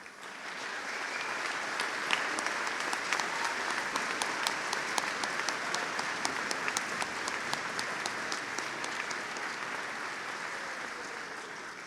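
A concert audience applauds high school band directors at an all-county band concert, a sustained, even wash of many hands clapping at moderate distance, with a few sharper claps standing out throughout.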